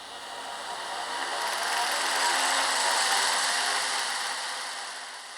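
On a BRAWA model locomotive, a small ventilator fan motor with a plastic rotor runs at its lowest speed, giving a steady airy whir that swells and fades gently, close and alone.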